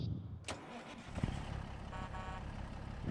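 Truck engine in a farming video game cranking and catching, a short starter burst followed by a low, steady idle that continues to the end, fairly quiet.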